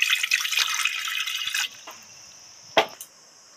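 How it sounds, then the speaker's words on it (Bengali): A little water pours into a pressure cooker, a brief splashing stream that stops abruptly, followed by a couple of sharp metallic clanks and near silence. "এই প্রেসার কুকারে সামান্য জল দেব"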